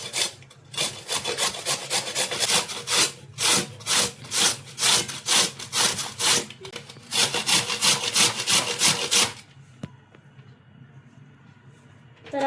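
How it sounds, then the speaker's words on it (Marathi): Carrots are grated by hand for gajar halwa, producing a steady rhythm of loud rasping strokes, about a dozen in a row, before the scraping stops and a quieter room tone remains. "आता आपण ही सगळी गाजरं किसून घेणार आहोत"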